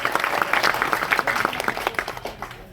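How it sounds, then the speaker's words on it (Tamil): Audience at the Siva Sampo movie audio launch claps: a burst of applause with crisp, distinct hand claps, strongest at first and thinning out toward the end. "அவருக்கு ஒரு கைத்தட்டி பாராட்டு தெரிவிச்சுக்கலாம்."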